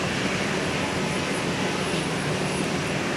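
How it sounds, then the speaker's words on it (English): A Sun Country Boeing 737-800 in Tide Pod livery departing on the north-south runway at Minneapolis–St. Paul Airport, a continuous broad jet roar heard from a distance, steady and unbroken. "Got a Sun Country Tide Pod livery 737-800 departing on the north-south runway"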